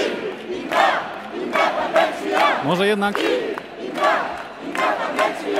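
Crowd shouting a chant at a Catalan nationalist demonstration, the Diada, with rhythmic bursts of many voices, one rising whistle-like cry in the middle and steady crowd noise throughout.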